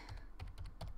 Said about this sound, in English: I'm typing mine in chat, so it's there too.